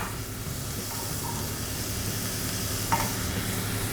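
Onion, red pepper and corn sautéing in olive oil in a pan, a soft steady sizzle with a faint stir or scrape near the end, quiet and close.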